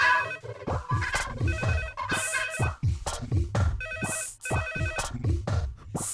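A telephone rings in repeated bursts with a steady rhythm, tones warbling up and down, moderately loud and close.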